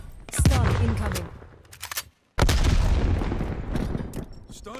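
A stun grenade in a video game goes off as a sharp, loud bang. A burst of heavy noise follows, then a short silence, then another long loud roar with crackling texture. Voices are mixed in near the start.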